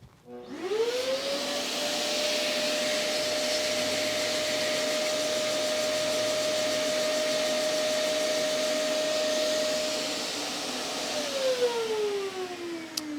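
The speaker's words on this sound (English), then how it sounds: "I'll start pumping the entire box full of drywall dust." Pump blowing drywall dust into a plexiglass box: a loud, steady whining whoosh that spins up, holds a constant tone for about ten seconds, then winds down with a falling pitch.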